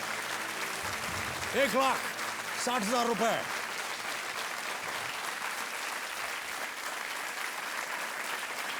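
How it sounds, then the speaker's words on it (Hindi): Studio audience applause on a television quiz game show fills the room, steady and fairly loud, while a host speaks over it near the end. "तालियां बजती रहनी चाहिए देवी और सज्जनों।"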